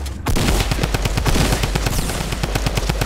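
Loud rapid-fire automatic gunfire from Fortnite Battle Royale bursts in after a brief quiet moment, keeping up a dense, fast rattle of shots to the end.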